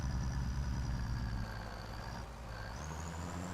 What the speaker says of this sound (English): I do love the sound of this truck, though.